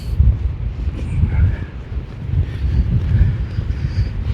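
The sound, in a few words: strong blizzard wind blowing into the microphone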